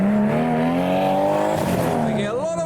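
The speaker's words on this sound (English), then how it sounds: "Someone's made some nice 6-cylinder turbo noises on his way in." Nissan Skyline R33 with a six-cylinder turbo engine arrives at a car meet, its loud, close engine droning and revving with rising and falling pitch.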